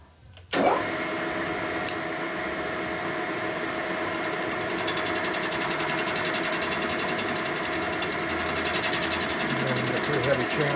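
Machining a heavy chamfer on a 1990s Harley Evo Sportster 90ci big-bore motor case gives a steady buzzing, whirring machine drone that starts abruptly and runs continuously at close range.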